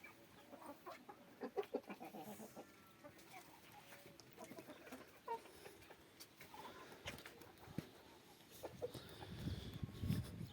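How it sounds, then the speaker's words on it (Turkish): Chickens cluck softly and intermittently, faint and somewhat distant, with scattered outdoor rustling and a louder burst near the end. "Yeni tavuklarımız"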